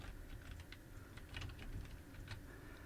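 Keystrokes on a computer keyboard while typing HTML code, a short run of soft, close taps at an even pace, with no talking.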